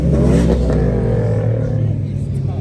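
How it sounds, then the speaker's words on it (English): Rumbling engine roar of a V6 Chrysler car with a newly installed exhaust, loud and close, swelling briefly then settling into a deep, steady drone. "Rev it up."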